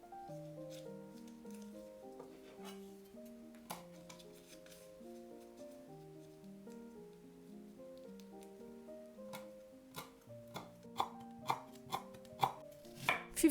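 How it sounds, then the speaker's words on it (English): Knife finely mincing lemongrass and kaffir lime leaves on a cutting board, heard as soft rapid chopping taps under steady background music, growing into sharper, louder regular chops toward the end. "Finely mince 10 grams of lemongrass, 4 kaffir lime leaves"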